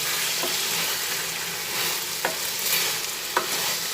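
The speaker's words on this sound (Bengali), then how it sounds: "ঢেলে দিয়ে এবার একটু ভালোভাবে নাড়াচাড়া করে নিচ্ছি" Mustard-poppy paste being stirred into brinjal curry in a pan, a steady bubbling sizzle with a few sharp spoon taps against the pan, close and without talking.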